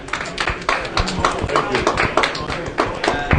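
Clapping for a poker champion at a London live-streamed poker tour event, a dense patter of hands under a talking voice, steady and fairly close throughout.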